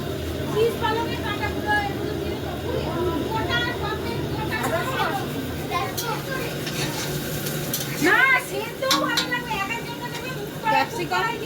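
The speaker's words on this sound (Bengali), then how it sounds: "এই লঙ্কা তেজপাতা ভেজে তুলে" Chili and bay leaves fry in oil in a pan, a close sizzle with stirring scrapes and clinks of utensils running beneath chatty voices and talking throughout.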